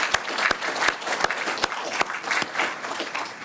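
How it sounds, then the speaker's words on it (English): A keynote audience gives a round of applause at a security summit, a sustained patter of many hands with a few louder individual claps punctuating it, steady and unaccompanied by voices. "Deserve a round of applause as well"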